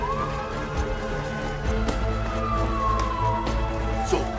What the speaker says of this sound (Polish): czyli puszczamy teraz syrenę policyjną